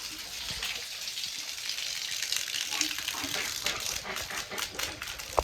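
Brown water runs from a tap in a newly built tiny home, a steady hissing rush that fills the short stretch with soft splashy noise and no voices.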